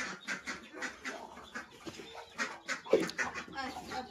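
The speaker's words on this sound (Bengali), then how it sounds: "এই দেখো মুরগির বাচ্চাগুলো দেখো।" Hens and their chicks cluck and cheep on a village farm, a busy, close, overlapping chatter of bird calls with rapid pulses.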